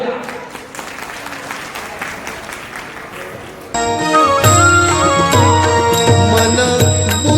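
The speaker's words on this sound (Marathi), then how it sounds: "सर्वांनी जोरदार टाळ्या होऊ द्या" Audience applause at an Ahir Suvarnakar community golden jubilee marking its 50th year: a steady, full burst of clapping fills the first half, then loud music takes over.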